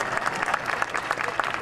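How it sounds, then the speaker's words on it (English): A crowd claps at the World of Color premiere at Disney's California Adventure, a brief burst of dense applause throughout. "You deserve a huge round of applause for your efforts."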